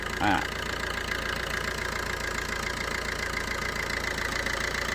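The diesel engine of a 2012 Ertiga ZDi car idles steadily nearby, a constant low rumble with a faint mechanical whir that holds even for the whole stretch.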